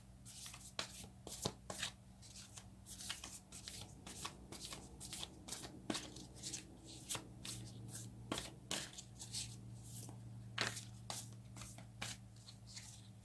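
A spirit animal oracle card deck is shuffled by hand in a quiet room, with repeated soft riffles and flicks of cards in an uneven rhythm, close by.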